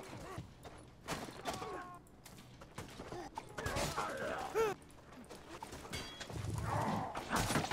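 Galloping horse hooves in the medieval combat game Mordhau, a busy clatter of hoofbeats mixed with game effects and occasional whinnies across the battlefield, at moderate loudness.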